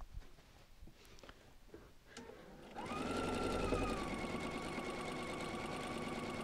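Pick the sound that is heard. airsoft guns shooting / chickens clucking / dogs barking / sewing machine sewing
sewing machine sewing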